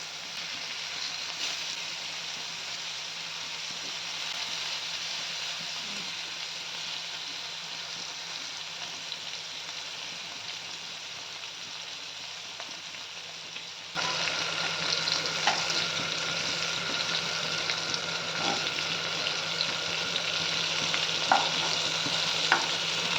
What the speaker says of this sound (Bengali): কড়াই তেল গরম করে নিয়ে একে একে মাছগুলো ছেড়ে দেব।